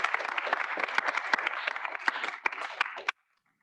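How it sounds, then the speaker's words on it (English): A room of students at a student senate meeting applauds, dense clapping for about three seconds before it cuts off abruptly to silence. "can we get some applause for our members of the week?"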